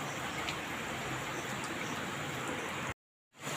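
Bengali drumstick curry comes to a boil in a pot, giving a steady, soft, hissing bubble that runs evenly for about three seconds before cutting off abruptly, with no voices.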